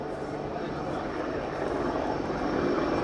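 An Apache gunship helicopter at the Royal International Air Tattoo air show, a distant, steady rumbling engine and rotor drone that slowly swells, with an announcer's voice over it.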